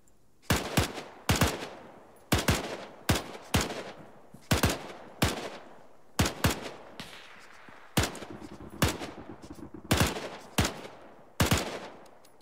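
Bursts of gunfire from the military simulation game Arma 3 ring out at close range, about a dozen loud individual shots and short doubles spaced roughly a second apart, each trailing a brief echo, with no talking.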